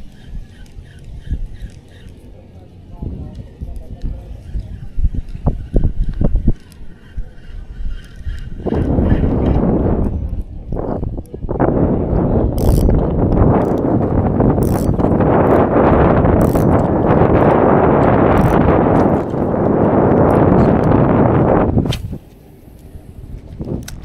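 Strong wind roars and buffets the microphone in heavy continuous gusts while fishing for redhorse outdoors, loud and close, after quieter clicks and handling noises at the start.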